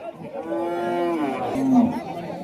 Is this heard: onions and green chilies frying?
no